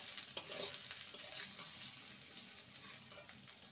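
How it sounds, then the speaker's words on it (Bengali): Rice and vegetables for nabaratna polao are stirred in a pan, a soft scraping and faint sizzle with a few light knocks of the spoon, quiet and close. "সবজির সাথে চালটাকে ভালো করে নেড়ে নিয়েছি।"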